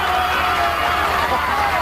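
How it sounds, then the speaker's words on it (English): A loud, dense crowd roars and cheers without pause, egging someone on at a dunk tank during a network stars competition, the hubbub steady and close throughout. "The crowd is demanding it. Can you hear them?"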